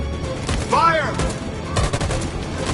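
Volley of gunshots in Detroit Become Human, two clusters of rapid loud cracks with a whining ricochet between them, close and dense, with voices faintly underneath.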